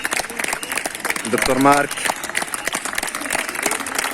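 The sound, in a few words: applause for hospital staff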